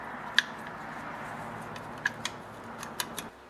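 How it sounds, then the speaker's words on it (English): A brake band being fitted around a chainsaw clutch, with a few sharp metallic clicks and light taps scattered over a quiet background, close up and without talk. "Now I'm going to reinstall the brake band around the clutch like this."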